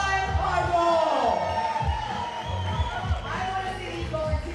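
A crowd at a 3x3 basketball game cheers and whoops loudly and continuously, mixed with a commentator's talk and a pulsing beat of arena music.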